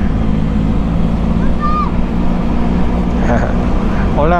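A Benelli TRK 502X adventure motorcycle rides through a town, its engine a steady low drone under heavy wind rush, while short voices and birdlike chirps break through near the end.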